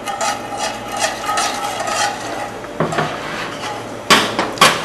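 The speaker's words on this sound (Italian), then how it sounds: "noi lo sbattiamo con la frusta in maniera che non ci siano grumi" Rapid rhythmic scraping and tapping of a whisk beating a milk mixture in a metal pot, loud and close, with a few pauses and sharper clanks.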